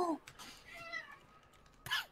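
A cat meows in the Trouble in Terrorist Town video game, a couple of short tonal cries at the start and end over quiet game background, with faint voices in between.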